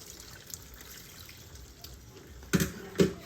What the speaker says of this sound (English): And then you just add your water.